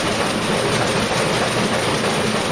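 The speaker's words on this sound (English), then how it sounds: "This is the train exiting the tunnel." A train on a Swiss mountain railway rumbles out of a tunnel, a loud continuous low engine and wheel roar with a steady hiss and no voices.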